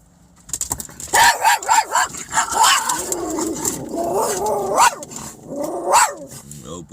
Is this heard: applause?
no